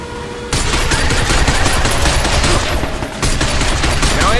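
Heavy sustained gunfire aimed at the legs of robots in the video game Binary Domain, a loud, dense fusillade that bursts in suddenly, pauses briefly, then resumes just as intense.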